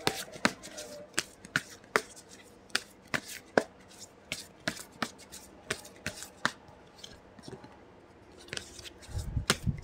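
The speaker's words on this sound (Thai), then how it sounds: "สับไพ่แล้วก็เปิดกันสดๆเลยนะคะ" Tarot cards are shuffled by hand with a string of sharp riffling snaps and slaps at irregular intervals, close and fairly quiet, with a soft rustle at the end.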